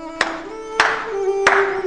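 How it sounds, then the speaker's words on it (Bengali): Three slow, deliberate hand claps ring out one at a time, spaced evenly and close, each leaving a short echo over a faint steady hum. "কে কে হাততালি দিচ্ছে?"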